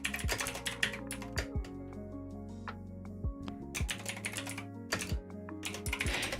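Words are typed into a chat on a computer keyboard, with close, crisp key clicks in irregular bursts and short pauses, fairly quiet and with no voice.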